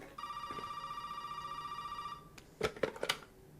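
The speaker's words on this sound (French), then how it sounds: "On va décrocher le téléphone." A telephone rings in the Resident Evil 7 demo, a steady electronic bell tone lasting about two seconds, followed by a few sharp clicks and clatters as the receiver is handled, with no talking.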